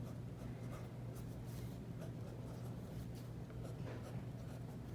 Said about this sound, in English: I always write the lessons here